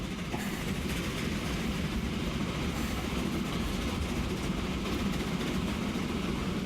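Steady rumble and rattle of a train running in the video game Transport Fever, a continuous even drone of wheels and cars with no pauses.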